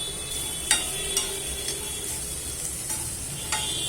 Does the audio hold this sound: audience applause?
no